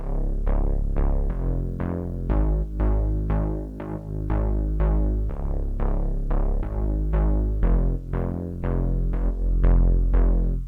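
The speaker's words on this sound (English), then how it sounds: "So the next sound we have here is the bass" A deep synthwave synth bass plucks steady, repeating root notes in a driving rhythm, each note swelling and decaying, loud and alone without voices.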